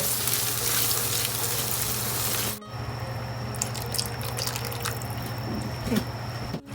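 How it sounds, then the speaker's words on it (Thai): Coconut milk poured gradually into a pot of curry paste with torn kaffir lime leaves, giving a steady sizzling, bubbling hiss with faint drips, briefly cutting out midway before resuming at a similar level, with no talking. "ค่อยทยอยใส่กะทินะคะ แล้วก็คนไปด้วย"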